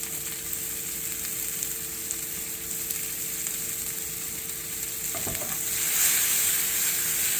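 Sweet and sour meatballs fry in a pan with a continuous close hiss and sizzle that swells louder toward the end. No one speaks.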